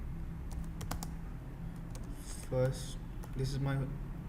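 Text is typed into MS Word on a computer keyboard, producing sparse, faint key clicks in small bursts while someone speaks quietly over them.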